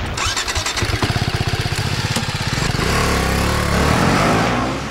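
A BMW Heritage motorcycle engine starts and runs close by, with a rapid pulsing idle that smooths into a steady, louder roar.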